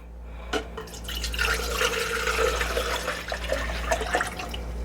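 A quart of pickling lime water is poured into a container, a soft continuous splashing and trickling with a few drips, fairly quiet and close, with a low steady hum underneath.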